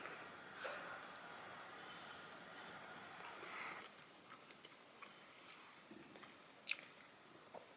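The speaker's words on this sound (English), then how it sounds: "We have the end slice of banana bread. We're going to try it." Someone biting into and chewing the end slice of banana bread, soft moist bites and quiet mouth sounds up close in a quiet room, with a faint sharper click near the end.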